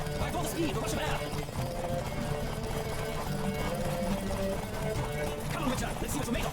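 Horse galloping in a race in The Witcher video game, steady rapid hoofbeats beneath continuous character speech and game music.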